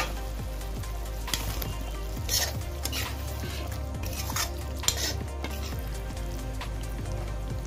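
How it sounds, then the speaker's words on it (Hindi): Potatoes are being stirred into dum aloo in a pan: a spoon scrapes and clinks against the metal over a constant low sizzle and hum, with occasional sharper knocks, and no one speaks. "अब हम इसमें आलू भी मिक्स कर देंगे"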